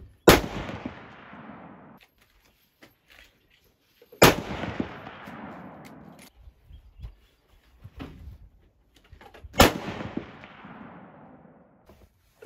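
Three loud 25-06 caliber rifle shots at a busy outdoor shooting range, each a sharp crack followed by a long rolling echo, spaced roughly four to five seconds apart, with quieter background noise between.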